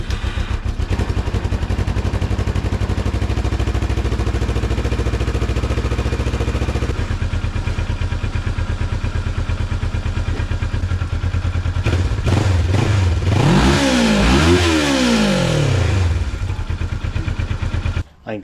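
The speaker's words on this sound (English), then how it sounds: "A quick break in today's programming for a cold start on the 650." A 650 engine cold-starts and settles into a loud, chattering idle, then blips through several sharp rising and falling revs before cutting off abruptly.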